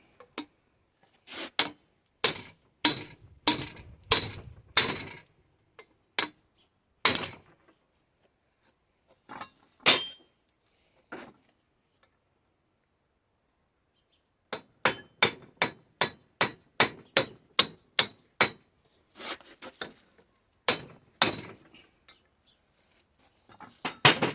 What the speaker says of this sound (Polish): nie będziemy nic kombinować, młotkiem wparsuje.